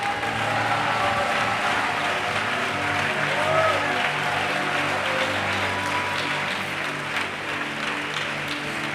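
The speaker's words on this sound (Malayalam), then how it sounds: "ഭംഗിക്കാരും കൈയടിക്കണ്ട." Congregation clapping during a church fasting and prayer service, a dense, steady wash of applause that fills the whole stretch at a fairly loud level with no break.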